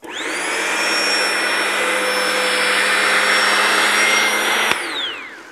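A Sun Joe TJ602E electric tiller cultivator's motor whirs up to a steady high-pitched whine, runs evenly for several seconds and then winds down abruptly near the end.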